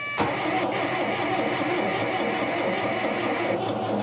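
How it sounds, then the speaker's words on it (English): A long-dormant 1979 MG engine cranks steadily for several seconds with a dense, churning mechanical drone, trying to catch after decades of sitting. No voices are heard. "That was enough of an ignition to make me think this engine can run"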